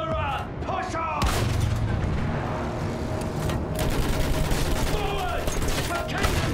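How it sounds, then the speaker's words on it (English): Battlefield 1 trench combat with a First World War machine gun: dense, rolling bursts of automatic fire and booms, with shouted voices near the start. "Use that machine gun, throw them down."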